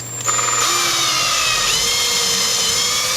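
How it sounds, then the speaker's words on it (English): A power drill whirs steadily and close as it bores a hole into a metal stanchion for an eye bolt on a homebrew antenna mount, its pitch shifting slightly as the bit bites. "the very first thing I'm going to do is drill a hole in here so I can bolt an eye hook to it"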